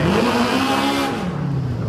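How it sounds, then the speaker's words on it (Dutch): A BMW 2002 race car's engine revs loud and close at a historic Grand Prix at Zandvoort, holding a high strained pitch before the revs drop away. "En een hele fanatieke BMW 2002."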